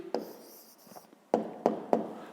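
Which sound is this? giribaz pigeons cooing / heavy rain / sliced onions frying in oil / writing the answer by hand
writing the answer by hand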